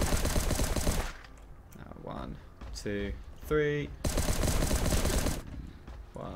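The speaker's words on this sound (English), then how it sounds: "you need to leave about 3 seconds between shooting each volley of bullets" Gun volleys in the Last Day on Earth survival video game: two loud rapid bursts of automatic fire separated by a pause of a few seconds, with a voice counting and short game tones in the gap.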